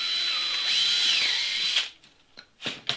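A power drill boring a hole in a traffic light: a high, steady whine that holds for nearly two seconds, then stops and gives way to a few short clunks and handling knocks close by.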